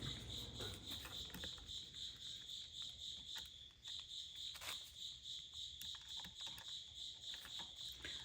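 Crickets hidden in the back of a room keep up a steady, high chirping throughout, faint and continuous, with a few light taps and clicks underneath.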